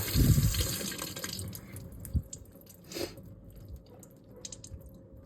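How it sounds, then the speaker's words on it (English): A white Tam-O-Shanter Scottish hone used for straight razor sharpening is rinsed under running water. A brief, close splash of flowing water comes first, then fades into a few faint drips and light handling sounds. "So I'm gonna rinse this off."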